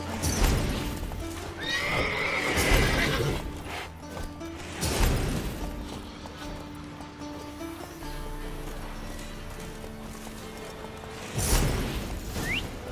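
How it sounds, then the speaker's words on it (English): Horses neigh and whinny several times over a steady ambient background, with occasional hoof clops and thumps, sounding like game audio from The Witcher 3. "Gotta calm all the horses before they wake the guards"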